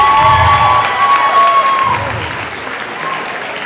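An audience at a public pitch event applauds after a presentation, loud dense clapping that fills the space up close and slowly thins out, with a voice speaking over it.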